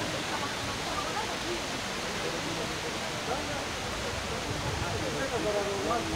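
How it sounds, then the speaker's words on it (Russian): Water runs down steadily at a waterside cafe, making a constant, even rushing hiss, with faint murmuring voices in the background. "Не такой звук, только вот вода стекает."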